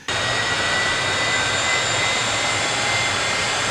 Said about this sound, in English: This is the sound of a British engine over Korea